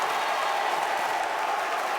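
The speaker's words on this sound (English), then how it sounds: "They're cheering." Notre Dame basketball crowd cheering in a school gym during a game against Fenwick, a steady wash of applause and cheers at moderate distance.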